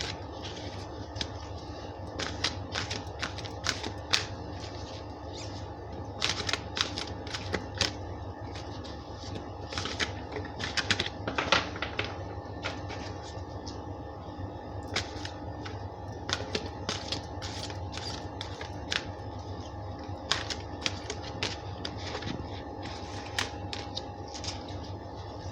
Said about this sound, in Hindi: तो कार्ड्स हो गए हैं शफल